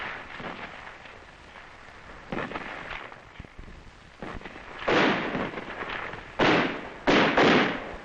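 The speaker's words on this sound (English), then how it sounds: "It was quickly met with small arms and mortar fire." Small arms and mortar fire during an ambush in 1963 Vietnam, on vintage 16mm film: a string of irregular muffled bangs and thumps, some louder bursts toward the end, over a hissy background.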